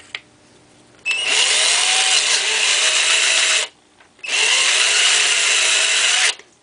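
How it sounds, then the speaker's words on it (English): A power drill spinning a pen mill against rosewood whines loudly in two long bursts, about two and a half and two seconds each, separated by a brief pause, with a steady high grinding tone. "Put it in the drill."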